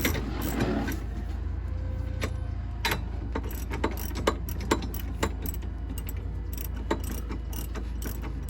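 A ratchet with a 1-inch socket tightens a ball hitch, giving repeated sharp clicking bursts at close range over a steady low hum, without talk.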